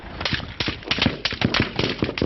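Rapid bursts of gunshots crack out in an irregular volley, loud and close, with no pause between the shots, as emergency responders come under fire.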